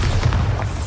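Bombarda explosion spell in Hogwarts Legacy, a deep rumbling boom that rolls on for under a second, loud and close with low thuds.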